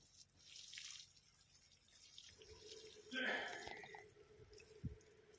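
Trichoderma solution is poured onto the base of a two-year-old durian tree, making a brief splashing gush midway through against faint, quiet outdoor background noise.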